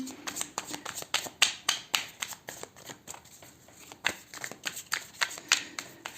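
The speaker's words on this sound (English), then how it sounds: "we are starting here with one more shuffle" A tarot card deck is shuffled by hand up close, with a steady run of crisp riffles and taps and no talking.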